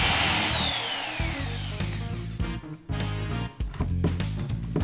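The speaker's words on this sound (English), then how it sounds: "we pre-drill and use some more of our 40mm long chipboard screws to fix the Moranti" A power drill pre-drilling holes in a wooden wine rack frame, starting with a high whine that winds down, then chattering bursts and grinding as the bit bites into the wood, close and loud.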